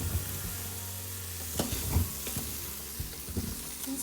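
Flour-dusted beef browns in oil inside an Instant Pot, a steady close sizzle broken by a few sharp scrapes and stirs of a utensil against the pot floor, with no talking.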